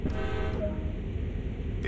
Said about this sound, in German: Lassen Sie das Signalhorn zweimal ertönen, um den anderen Lokführern zu signalisieren,